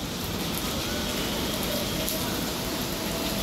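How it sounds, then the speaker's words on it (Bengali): Heavy rain pours down steadily in a dense, continuous broadband hiss of drops striking surfaces, loud and close throughout with no pauses. "অনেক বৃষ্টি হচ্ছে, অনেক বৃষ্টি হচ্ছে।"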